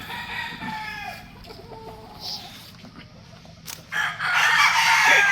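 A roundhead gamecock rooster crows close by and loud near the end, over faint farmyard background sounds.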